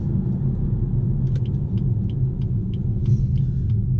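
A BMW 4 Series coupe's engine holds a deep, steady rumble as it accelerates to overtake on the road, loud and constant from inside the cabin, with a few faint clicks and no talking.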